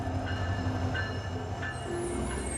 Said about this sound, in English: We hop on the train outside Denali